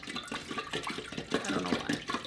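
Lime-heavy tap water trickles and splashes through a filter while being prepared for activating fermenting cultures, an uneven gurgling pour at moderate volume.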